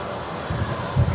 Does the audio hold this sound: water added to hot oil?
no